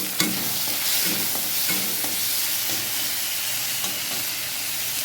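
Tomatoes and dried red chillies frying in hot oil as a tempering for a veg hing aloo dum, a steady close sizzle with a utensil scraping and stirring in short irregular strokes, no voices.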